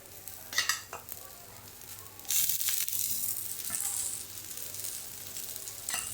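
Eggplant slices fry in oil in a pan, a steady sizzle with crackling bursts that swell louder partway through, with light scraping of a utensil at the start.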